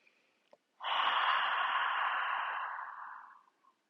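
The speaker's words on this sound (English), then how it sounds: "if you breathe out through the mouth, imagine you're fogging up a mirror with that exhale" A single long, breathy exhale through the mouth, like fogging a mirror, lasting nearly three seconds and tapering off slowly, close and clear during a relaxation breathing exercise.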